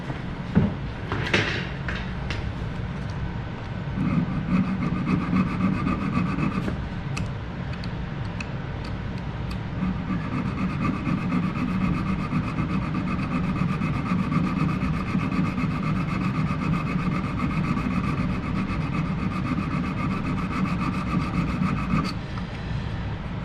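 Hand file rasping back and forth in a wooden door hinge recess, steady close scraping strokes with a faint ticking, running continuously.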